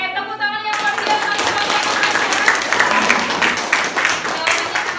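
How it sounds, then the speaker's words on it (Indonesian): Classmates in a school classroom break into dense, steady clapping that fills the whole stretch, with a brief voice at the start and children's chatter mixed under the applause. "Oke, tepuk tangan yang luar biasa."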